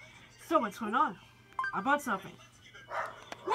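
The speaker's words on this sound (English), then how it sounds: "And my dogs are barking" Pet dogs barking in bursts of yips and barks, fairly close, mixed with a person talking over them.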